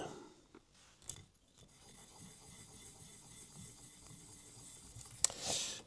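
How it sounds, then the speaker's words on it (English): Tiny model locomotive gears from a Lima Class 37 are rubbed on very fine sandpaper over a flat surface, making a faint, close, repetitive rasping scrape with a few small knocks. "Just using a very, very fine sandpaper on a very flat surface."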